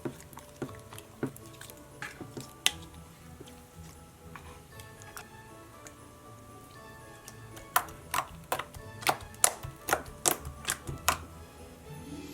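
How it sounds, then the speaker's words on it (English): Slime being stirred with a spoon as contact solution activator is mixed in, soft sticky clicks and squishes in irregular bursts, quiet and close, growing busier toward the end. "I'm using some contact solution as the slime activator, and I'm just stirring that in"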